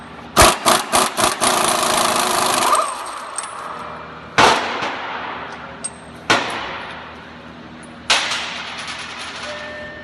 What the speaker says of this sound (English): Remove your axle nut.